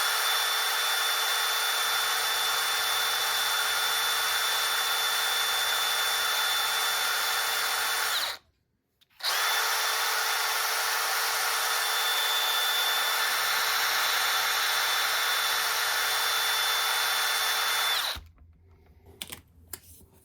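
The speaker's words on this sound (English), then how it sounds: "I'm just using really fine sandpaper, and I just put it on the old roller and just to smooth out the rust" An old rusty arcade trackball roller spinning against fine sandpaper gives a loud, steady motorized whine that runs for about eight seconds, cuts out briefly, resumes for another nine seconds, then stops with a few faint clicks.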